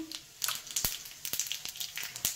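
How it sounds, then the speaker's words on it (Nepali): Fenugreek and cumin seeds sizzle in hot oil in a pan for tempering, giving a close, quiet frying crackle with sharp little pops scattered through it. "अब झान्नु पर्यो भने चाहिँ मेथी हाले। जिरा पनि हालिदिने।"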